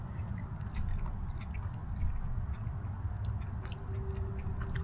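A big tortilla stuffed with meat, beans, cheese, lettuce and rice chewed close up, with soft, steady mastication and faint crunching and no talking.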